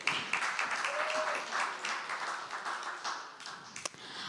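Audience applause at a live radio music show, a steady wash of moderate clapping that holds through the whole span with scattered louder claps and a brief voice-like tone partway in.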